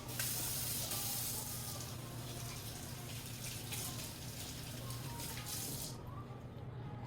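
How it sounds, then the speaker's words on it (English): Tap water running steadily while deboned milkfish (bangus) is washed in a kitchen, a continuous close hissing spray that cuts off abruptly near the end. "So we need to wash it thoroughly too."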